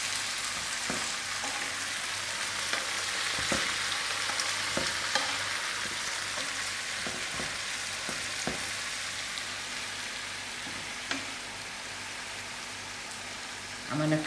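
Oyster mushrooms frying in a pan make a steady, rain-like sizzle heard up close, with occasional light clicks and taps from stirring and no talking.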